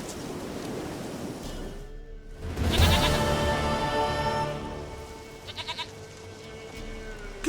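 A goat bleats in the game The Witcher 3, one long, strong wavering bleat near the middle, later followed by a couple of short faint calls, over a steady rushing ambient wash.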